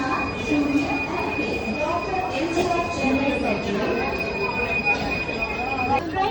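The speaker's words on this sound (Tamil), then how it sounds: "ட்ரெயின் போகுது." A train rolls past nearby with a continuous rumble, clattering wheels and a sustained high metallic squeal, while people talk over it.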